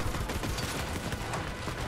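Rapid gunfire from a first-person shooter game, Borderlands 3, fills the moment with dense, continuous bursts of shots at steady loudness, with no speech over it.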